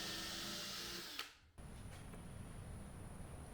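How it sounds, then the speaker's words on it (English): A power drill bores holes in wood for threaded inserts during a box van battery case build: a steady high whine, a brief pause and catch, then a lower grinding drone, close and alone. "So what I'm doing here is drilling holes for our threaded inserts"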